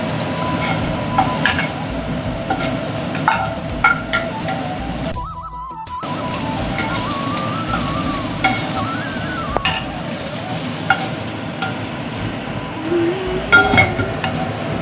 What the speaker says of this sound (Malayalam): നല്ല മിക്സ് ചെയ്ത് കൊടുക്കുക.